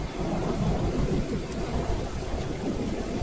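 Heavy rain pours in a cartoon scene, a steady dense roar with low rumbling like distant thunder beneath it throughout.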